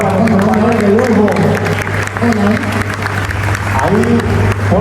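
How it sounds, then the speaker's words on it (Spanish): Audience applause for a panel at a blockchain conference in Bolivia, steady clapping running the whole stretch with a sustained hum and murmured voices mixed underneath. "un fuerte aplauso por favor a nuestro panel de lujo."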